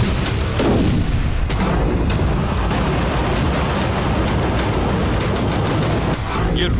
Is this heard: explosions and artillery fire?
yes